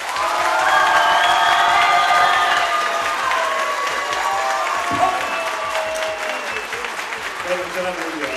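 A live audience applauds and cheers loudly for a band at a music event, with dense sustained clapping and shouts and whistles over it, easing slightly toward the end.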